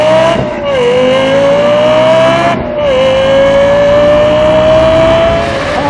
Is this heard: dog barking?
no